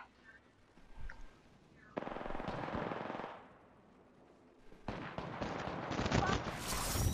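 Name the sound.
gunfire in the video game Apex Legends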